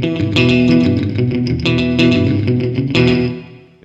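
A distorted electric guitar through JHS Pedals 3 Series pedals plays chords with a wide, spacious reverb with pre-delay added, its tail blooming after each strike and fading out at the end.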